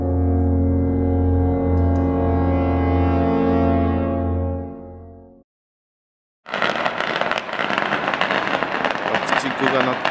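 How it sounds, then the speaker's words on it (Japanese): In Wuhan in January 2012, a long, loud horn-like tone fades into silence, then firecrackers go off with dense, irregular crackling bursts that last to the end. "爆竹が鳴ってます。"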